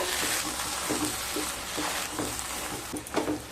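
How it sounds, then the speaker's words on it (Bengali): Dal with coconut and bottle gourd being stirred in a hot pan, a steady sizzle with a spoon scraping through it in repeated strokes, close and fairly loud, no voices. "এবার খুব ভালোভাবে মিশিয়ে নেব।"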